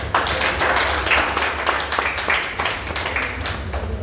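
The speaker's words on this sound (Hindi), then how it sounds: "परमेश्वर के लिए जोरदार तालियां बजाएंगे" A church congregation claps for God, a crowd of hands beating in uneven bursts that swell and fade, fairly close and loud, with faint voices mixed in.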